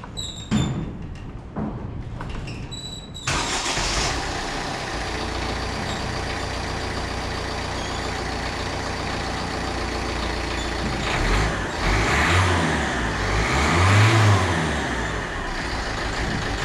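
A rebuilt Ford Fiesta 1.4 TDCi diesel with automatic gearbox cranks and catches after some clicks, then settles into a steady close idle, with a few rises in engine speed near the end.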